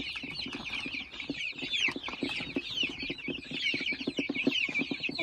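A flock of chickens with red roosters, chicks kept for sale, clucking and chirping continuously in a busy, close chorus with steady, overlapping calls and no talking.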